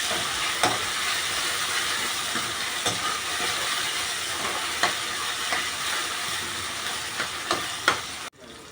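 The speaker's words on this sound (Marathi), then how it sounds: "अर्धा चमचा आलं लसूण पेस्ट टाकू ते पण तेलामध्ये भाजून द्यायचे" Steady hissing sizzle of ginger garlic paste frying in hot oil, with occasional soft clicks of stirring, close and continuous.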